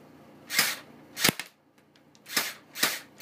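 A War Inc airsoft gun fires five sharp snapping shots, spaced irregularly across a few seconds, each crisp and close, with quiet gaps and no talk.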